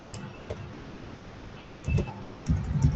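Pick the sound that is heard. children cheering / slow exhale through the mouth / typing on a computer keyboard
typing on a computer keyboard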